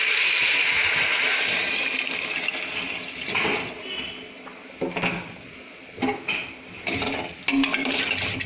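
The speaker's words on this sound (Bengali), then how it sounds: "এবারে এর মধ্যে পানি দিয়ে দেবো।" Water poured into a pot of chicken stew, a steady splashing pour that breaks into intermittent splashes and clinks of cookware toward the end.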